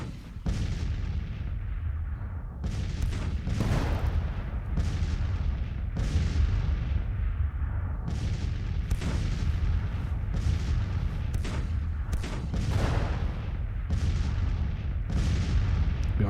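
Artillery booms from a Grand Tactician: The Civil War battle roll out in repeated heavy blasts every second or two over a constant low rumble of battlefield noise, loud and sustained with no talking.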